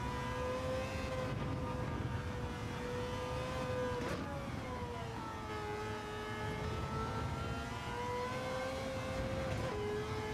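A 2019 Mazda 3 with a 787B engine swap in Gran Turismo 7 drones at high revs with a constant, buzzy engine note. The pitch rises and falls through shifts and corners, with no talking.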